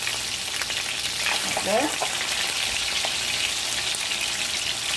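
Steady loud sizzling of chicken breasts frying in a hot pan, continuous and close, with a brief spoken phrase over it.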